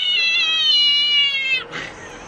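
A cat meows loudly in one long, drawn-out cry that breaks off near the end, with no voices around it.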